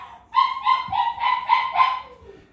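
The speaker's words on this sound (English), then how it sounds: "He's a 6-week-old Malinois puppy." A six-week-old Belgian Malinois puppy lets out a quick run of high, nasal yips and whines, about six short cries close by, with no one talking.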